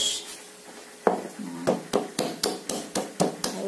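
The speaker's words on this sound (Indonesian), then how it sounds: "Satu-satu saya ulek untuk si bawang putihnya ini dulu." A pestle pounding garlic one clove at a time in a mortar, about a dozen sharp, evenly spaced knocks close up, building into a steady rhythm after a quieter start.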